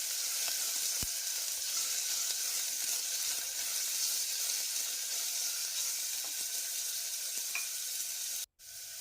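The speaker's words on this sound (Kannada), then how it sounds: "ಸಣ್ಣದಾಗಿ ಹೆಚ್ಚಿರುವಂಥ ಈರುಳ್ಳಿನ ಎಣ್ಣೆಯಲ್ಲಿ ಸಾಫ್ಟ್ ಆಗೋ ತನಕ ಹುರ್ಕೋಬೇಕು" Finely chopped onions sizzle steadily in hot oil, a continuous even hiss with faint scattered crackles and no voices, cut by a brief gap near the end.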